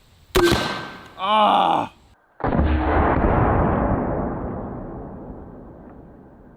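A Can Cannon from X Products fires at a pumpkin: a sharp loud blast, a brief exclaimed voice, then a second heavy boom that trails off into a long fading rumble.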